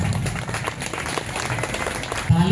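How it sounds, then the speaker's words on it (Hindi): An audience at a Father's Day church celebration applauds continuously, dense clapping that holds steady and swells a little near the end, with a voice faintly audible underneath. "ताली में कमी नहीं होना चाहिए।"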